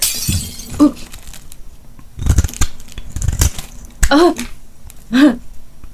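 Something breaks and shatters in a short burst of crashing impacts, mixed in with voices talking and exclaiming nearby.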